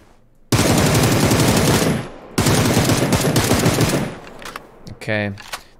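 A Beryl M762 assault rifle in a battle royale shooter fires two long, loud sustained automatic bursts, followed by a few scattered shots and someone speaking briefly at the end.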